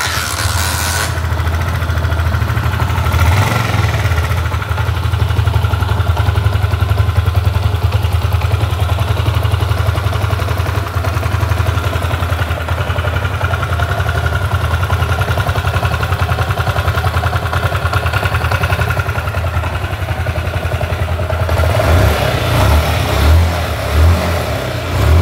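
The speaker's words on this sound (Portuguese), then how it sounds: "Funcionamento final do motor da Titan 99." A Honda CG Titan 99 motorcycle engine idles steadily up close after engine rebuild, a continuous low mechanical chug with brief revs near the start and end.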